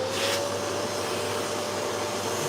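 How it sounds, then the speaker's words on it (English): A dust-extraction vacuum hose runs with a steady, loud broadband roar and faint whine, held near a saw cutting a wooden chopping board to catch sawdust, with no talking. "Let me get my hose over here a bit. So I want to try and catch some of this dust."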